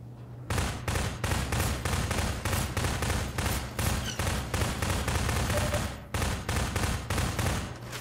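Rapid gunfire in the video game Half-Life 2 hammers out in a dense, near-continuous burst of sharp shots, close and loud, with a brief gap just past the middle before firing resumes.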